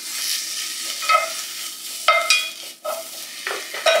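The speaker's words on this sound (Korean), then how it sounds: "북어를 좀 볶아줄 겁니다." Shredded dried pollock stir-fries in a little sesame oil in a hot pan, with a steady close sizzle and occasional scraping stirs, with no talk.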